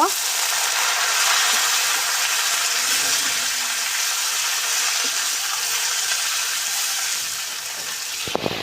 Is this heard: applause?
no